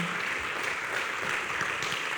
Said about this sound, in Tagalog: Palakpakan natin ang ating Panginoon.